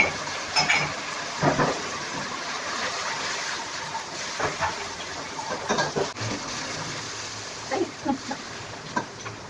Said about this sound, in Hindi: फ्राई करेंगे और इसमें डाल देंगे प्याज और शिमला मिर्च